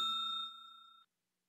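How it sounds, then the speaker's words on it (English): A tabletop bell rings out with a clear metallic ding, a second strike blending into the first, then a sustained bright tone that decays and cuts off after about a second. "Well, that was the double bell."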